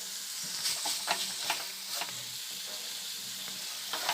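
Boneless chicken pieces with leftover bits of bone are stirred with spices in a hot pan, a steady sizzle broken by a series of scraping spatula strokes close by, with no talk.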